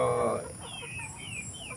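Roosters and hungry chickens on a small farm where ducks and hens are kept, giving a few soft clucks and calls at a moderate distance, with a louder burst at the start and then quieter chirpy calls.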